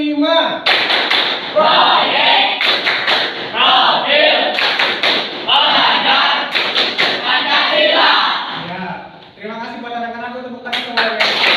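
Students performing the P5 rhythmic clap in a classroom, loud patterned claps and thumps in quick bursts, mixed with group shouting and chanting.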